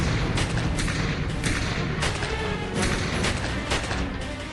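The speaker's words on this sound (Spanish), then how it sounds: "21 disparos en tan solo unos segundos." A rapid string of 21 sharp, loud gunshots fires in quick succession over a dense, rumbling background.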